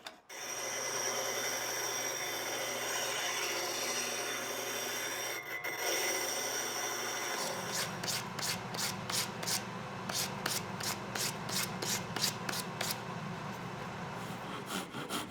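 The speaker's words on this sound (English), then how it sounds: "Then I'll cut it out on the scroll saw and sand it into something" Scroll saw cutting a wooden game piece, a steady buzzing rasp that shifts at mid-clip into a rapid rhythmic stroking, close and continuous, suited to sawing and sanding the wood into a circle.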